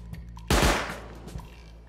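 A single loud, close gunshot from a weapon in the video game Rust bursts out and rings off over about half a second, with a few faint smaller pops around it and no talking.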